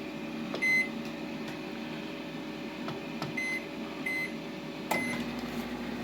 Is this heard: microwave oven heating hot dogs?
yes